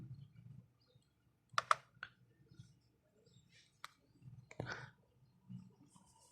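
A computer mouse gives a few sharp, isolated clicks at close range in a quiet room, spaced irregularly over several seconds with soft background rustles between them.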